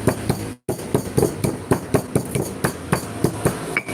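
Spices crushed with a pestle (geprek) while preparing Minang fish curry: about a dozen sharp, loud pounding thuds in a steady rhythm, close by, with a short silence near the start and no talking.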